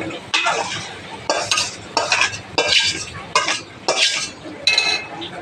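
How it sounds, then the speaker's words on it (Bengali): A spoon stirs dal into fried diced tomatoes in a metal pan in about seven distinct scraping strokes, each a bright clattering scrape over a faint sizzle, close and loud with no talking. "এবার ডালটা ঢেলে দিলাম"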